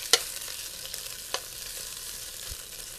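Ground meat browning over moderate heat on a cooktop pan for homemade pasta sauce, a steady soft sizzle with a few faint stirring clicks, no voices.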